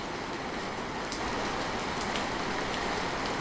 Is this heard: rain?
yes